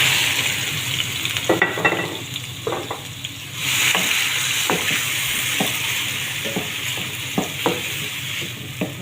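Tomatoes fry in a little oil in a pan, a steady close sizzle broken by repeated scrapes and knocks of a spoon stirring through the clip.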